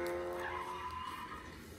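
A short race car sound effect played through the small speaker of a Jibo home robot, a brief engine whine with tire squeal that fades quickly, heard alone and fairly quietly.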